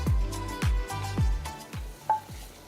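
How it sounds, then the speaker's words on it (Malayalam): Onions sautéing with turmeric powder in a pan for an Alappuzha-style prawn curry in coconut milk, with repeated scraping stirs and a light sizzle, close and steady, no voices. "മഞ്ഞൾപ്പൊടി ഇട്ടൊന്ന് ചെറുതായിട്ട് വഴറ്റുക."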